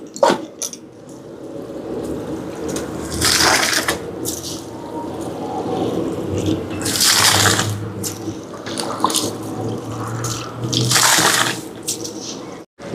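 Rice poured and stirred into a pot of boiling water for chicken biryani, with a steady watery bubbling bed and three louder splashing, sloshing bursts from the stirring, close and without talk.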